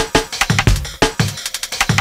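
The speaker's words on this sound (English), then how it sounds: "For example, I've chopped up this breakbeat to make this." A chopped-up breakbeat: punchy kicks and snares cut into short, uneven sample slices with hi-hat hits between them, a loud, close, syncopated drum loop with no voices.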